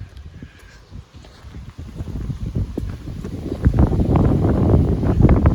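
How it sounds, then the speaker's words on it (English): Wind gusting and buffeting steadily, building louder toward the end, with a rough rushing roar and no voices. "Wind is blowing."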